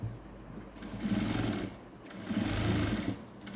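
A sewing machine stitches a blouse in two steady runs of rapid mechanical whirring, close and loud, with a short pause between them.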